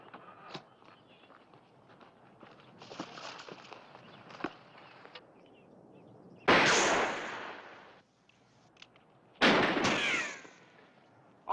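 Two loud, sharp gunshot bursts ring out close by in a Tombstone-era Western standoff, each with a long trailing echo, separated by a few seconds of quiet ambience with faint movement.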